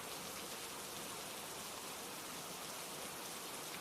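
Steady rain falling on a surface, an even, dense hiss of drops with no change in level throughout, alone and without talk.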